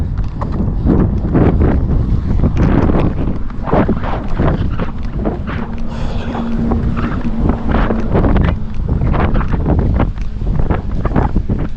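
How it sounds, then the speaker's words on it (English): Wind buffets the microphone during a run, a loud continuous rumbling roar with irregular gusty thumps and bursts, close and unbroken for the whole stretch. "Okay, Mark, it's getting windy again."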